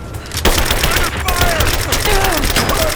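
Sustained volleys of gunfire in the Rise of the Tomb Raider video game, dense rapid shots loud and near with a sharp crack early on and faint shouting under the battle.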